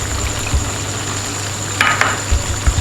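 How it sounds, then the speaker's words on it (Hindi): Chicken pieces frying in hot oil for homemade KFC-style crispy fried chicken, a steady low sizzle with a few brief crackling bursts near the end, close and moderately loud. "ये देखिए कितना अच्छा फ्राई हुआ है"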